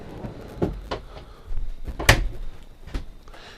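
Big kitchen drawers in a 2012 Burstner i810 Elegance motorhome slide open and shut, giving several separate knocks and thuds with one sharper bang near the middle, close by and with no talking.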